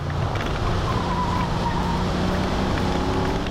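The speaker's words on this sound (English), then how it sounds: "obvious and sometimes subtle tire howl during a corner" Car tires howling as they slide through a corner, a wavering squeal riding over continuous engine and road rumble.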